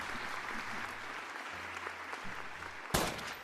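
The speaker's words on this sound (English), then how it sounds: "Can we give a round of applause to Hector for some really great sound effect" Faint round of applause from a crowd, a soft wash of clapping running steadily under a low hum, with one louder burst near the end.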